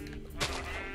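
A sheep in Minecraft gives a single short bleat partway through, moderately close, over a quiet game background with no talk.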